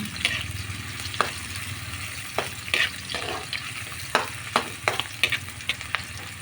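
Garlic sizzling in a pan, cooked with onion for ginisang mongo, a steady frying hiss broken by repeated sharp scrapes and clacks of stirring, close and moderately loud, with no talking.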